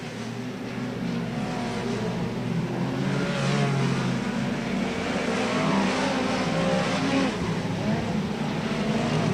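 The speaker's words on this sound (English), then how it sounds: "Now there's a bit of a bunch up of cars with Kevin." Speedcars racing around a dirt oval track at night in the 1997 Australian Speedcar Championship, a dense, loud pack of engine roars swelling and fading as cars pass, with faint background commentary.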